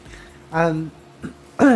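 A voice gives a short throaty rasp, then a brief gruff burst and a louder clearing of the throat, each separated by quiet.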